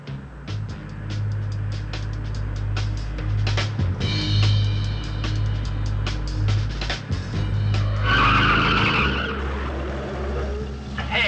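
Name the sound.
car skidding as its brakes lock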